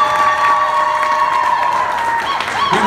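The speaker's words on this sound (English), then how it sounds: "Round of applause for everybody." A crowd at a comic convention claps and cheers loudly and continuously, with excited shouts mixed into the dense applause.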